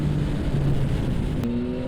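A 2021 Yamaha MT-09 motorcycle engine pulls hard under acceleration, a steady loud drone with a rising pitch heard up close, with no talk over it.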